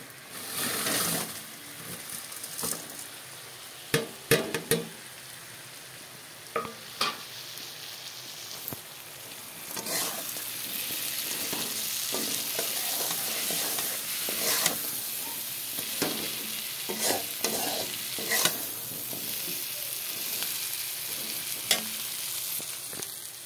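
Maggi noodles fry and sizzle in a pan as an evening snack is cooked. A spatula stirs with scattered clinks and scrapes over a continuous crackling hiss, heard up close with no talking.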